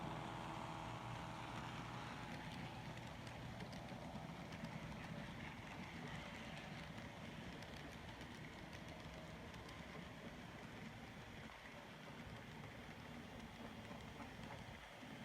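A model train runs on a layout, giving a faint, continuous rolling rumble and clatter that stays fairly even throughout, with no talking.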